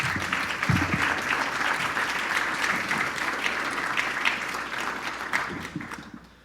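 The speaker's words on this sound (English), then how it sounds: "So please, another huge round of applause for our challenge providers." An audience claps at an awards ceremony, a full, sustained round of applause from a large crowd that holds steady and then tapers off at the end.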